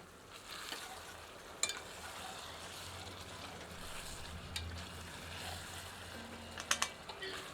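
Kashmiri chili powder and salt roast in oil over low heat for a jungle-style goat curry, giving a faint, steady sizzle broken by a few sharp clicks of stirring, with no one talking.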